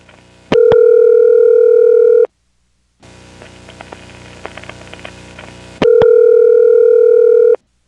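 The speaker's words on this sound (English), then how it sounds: "Let's take a good listen to those pulsing noises it made setting up the route to the phone line." Clicking pulses and relay chatter from an NX1-E telephone switch setting up a route to a phone line in Vanceboro, North Carolina, in 1977, framed by steady, loud tones with sharp clicks at their start.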